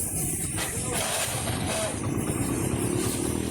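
A Hero Splendor BS6 motorcycle engine idling close by, a steady low putter with a faint background hiss and no talking.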